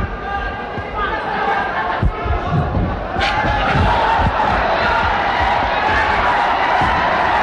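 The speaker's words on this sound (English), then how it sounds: "The crowd egging on Pacquiao." A boxing crowd at a Manny Pacquiao bout roars and cheers, swelling from a rumble into a sustained loud din, with a commentator talking over the noise.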